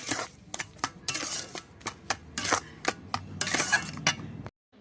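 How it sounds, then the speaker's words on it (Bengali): A spoon stirs semolina, milk and sugar in a pot, making a rapid, uneven run of metallic clinks and scrapes against the pot, close by, that stops abruptly. "চিনিটা দিয়েও ভালো করে নাড়িয়ে চাড়িয়ে নেব"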